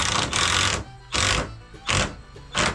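A screw driven into a door hinge through a pilot hole, four loud, close bursts of a powered driver whirring in quick succession with short pauses between them.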